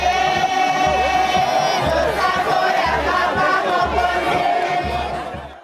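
A crowd gathered at a port to welcome Didace Pembe, a loud dense roar of many voices shouting and chattering, with pulsing low rhythmic beats underneath, continuous throughout and fading slightly at the end.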